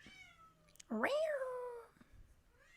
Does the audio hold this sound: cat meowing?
yes